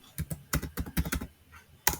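Rapid clattering keystrokes on a computer keyboard entering a command in E3D piping design software, close and crisp, in an uneven burst with a short pause before a final sharp key press.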